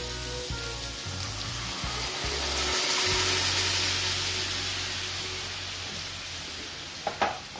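Coconut milk pours into a sizzling pan of chickpea curry, giving a loud, steady frying hiss that swells midway and then settles, with a couple of brief clinks near the end.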